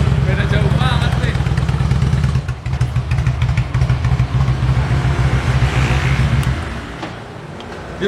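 Harley-Davidson motorcycle engine idling after a carburetor service, with a loud, close, rhythmic low thumping that runs steadily and then fades near the end, while voices talk at times.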